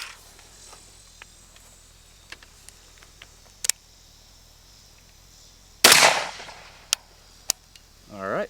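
Rifle rounds of M193 ball and M855A1 ammunition strike an AR500 steel barricade: a loud sharp crack with a ringing tail near the middle, another near the end, and a few faint ticks and clicks between.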